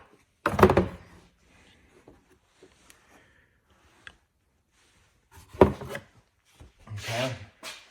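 Plastic engine cover on a 2009 Saturn Vue 2.4L being pulled off its fasteners: a sharp scraping pop, quieter rubs and ticks, then a second pop and a final muffled plastic rattle, all close up.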